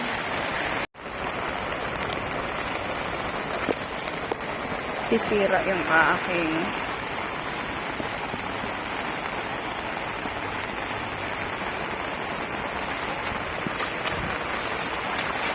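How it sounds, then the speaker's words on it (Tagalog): Steady heavy rain hisses throughout over a rice field, a dense broadband wash with a voice speaking briefly over it partway through. "Medyo talagang malakas-lakas talaga ang ulan."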